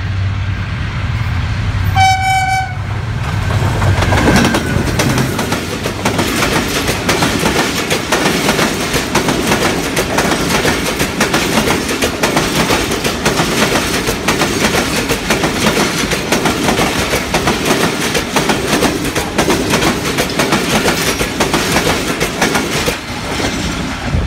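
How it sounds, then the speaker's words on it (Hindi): The Allama Iqbal Express passenger train passes a level crossing at speed, opening with a short horn blast before continuous loud wheel rumble and clickety-clack carries on steadily close by. "अभी जो कि पासिंग हो चुकी है अल्लामा इकबाल एक्सप्रेस और अभी गेट खोल दिए गए हैं"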